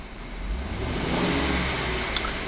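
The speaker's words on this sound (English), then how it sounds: "I'm going to rev the engine" A 2010 Chevrolet Suburban LTZ with a 5.3 liter V8 revs up from idle, its low engine roar swelling steadily and holding for a couple of seconds, close and continuous.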